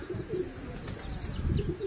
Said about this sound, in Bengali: এই যে কবুতর দেখেছেন